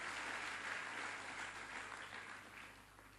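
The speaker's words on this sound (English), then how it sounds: "I think that's what deserves a round of applause" Round of applause from a large audience at an African entrepreneurship foundation forum, a steady, dense wash of clapping heard from a distance, easing slightly toward the end.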